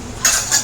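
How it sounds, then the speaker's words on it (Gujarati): Metal utensils and dishes clatter as they are washed: two quick, fairly loud clinks in close succession. "ત્યાં તો વાસણ સાફ થવા મળ્યા છે."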